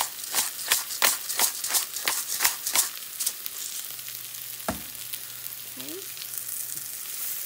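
Ingredients sautéing in a pan with pink Himalayan salt and black peppercorns for a low-carb egg burrito, a sizzle with a quick run of sharp scraping stirs early on, then a steadier hiss with one loud knock and a brief spoken word.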